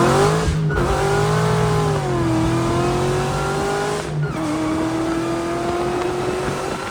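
A clapped-out 2.2-litre KB Cobra pickup pulls hard in first gear, its engine note rising loudly and steadily with a brief dip around a shift point, close and continuous with no talking.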